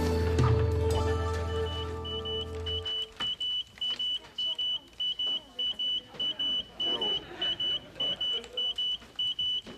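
A smoke alarm beeps in a repeating series of short, sharp electronic chirps, loud and near, after an opening stretch of layered musical sound, with faint voices underneath.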